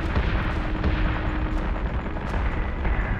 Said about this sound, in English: they get one more salvo out into space